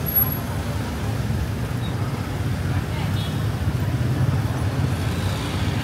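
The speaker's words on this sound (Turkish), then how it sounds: "Bu arada trafik burada sıkışık." Congested street traffic in Phuket, Thailand, a steady low rumble of cars and buses idling and creeping along at moderate loudness, without a clear single pass-by.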